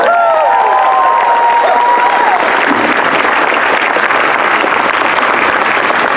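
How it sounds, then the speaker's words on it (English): A convention crowd at an evening stage show bursts into loud, sustained applause and cheering, with a brief whoop at the start and steady clapping throughout. "Give him another round of applause."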